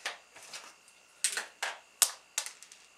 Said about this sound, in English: I'm about to open up two bottles